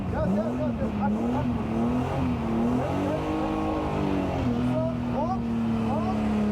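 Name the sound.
car engine revving under throttle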